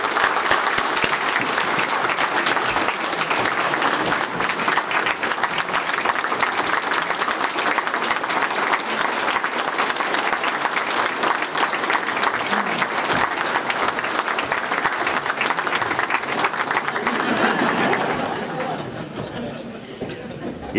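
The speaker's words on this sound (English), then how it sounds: "So please put your hands together and give a round of applause" Sustained loud audience applause for a mining industry conference keynote, dense clapping from a large crowd with scattered chatter and chuckles, lasting about seventeen seconds before tapering off.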